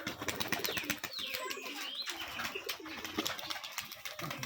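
A male Giribaz pigeon from a Rajshahi pigeon loft, just released, with close wing flapping and a few soft coos over a busy outdoor background of other birds.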